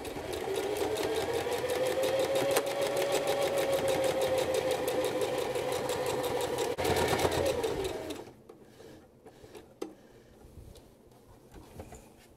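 A sewing machine back stitching a seam on a Simplicity pattern garment, running in a fast steady whir for about eight seconds before stopping abruptly, leaving quiet room noise with a faint click.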